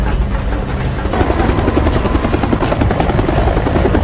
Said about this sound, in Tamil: அதே சமயம் ஹெலிகாப்டர்ல ஆர்மி டீம் அங்க வந்துடுறாங்க